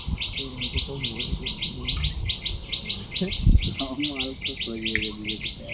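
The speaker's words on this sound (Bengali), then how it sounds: "কি পাখি ডাকছে রে? কুকুর কুকুর করে।" A bird repeats a quick, bright chirping call in a steady rhythm throughout, while people talk nearby in the foreground beside a village pond.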